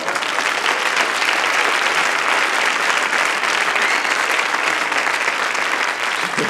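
Dense, steady applause from a theatre audience at a stand-up comedy show, loud and continuous for the whole stretch with no voices breaking through.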